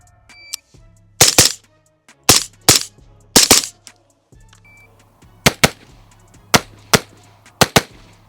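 Rifle shots on a shooting competition stage, sharp loud cracks fired in quick pairs and triples with short pauses between, close by, with a low hum underneath.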